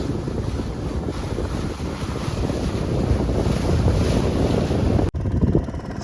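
A tour boat motors past on the sea near a cove, a steady low engine and hull-wash rumble mixed with strong wind buffeting the microphone and lapping water, continuous and fairly loud.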